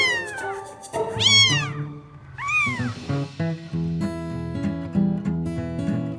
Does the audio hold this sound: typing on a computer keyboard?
no